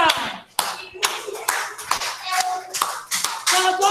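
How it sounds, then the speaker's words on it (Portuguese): Schoolchildren clap hands steadily during a dance activity, a run of crisp, roughly regular claps about twice a second, close and loud, while voices carry on underneath. "Batendo palmas agora."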